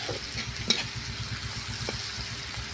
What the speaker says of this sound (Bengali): পেঁয়াজটাকে আমি একটু ভেজে নিচ্ছি হালকা করে